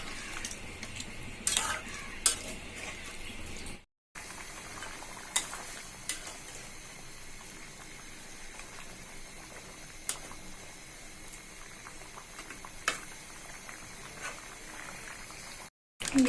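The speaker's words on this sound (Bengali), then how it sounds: "এই 1 কাপ পানি দিয়েই আমি মাংসটা ভালো করে ভাজা ভাজা করে নেব।" Beef frying in a pan with one cup of water for a Bangladeshi black beef bhuna, bubbling and sizzling steadily with spatula stirring and occasional pan scrapes and clinks, broken by two brief silent gaps.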